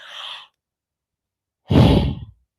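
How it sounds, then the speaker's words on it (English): A woman's yawn: a short breathy intake, a pause of over a second, then a louder, longer, voiced exhale that trails off. Close and clear, with no talking. "I have to yawn."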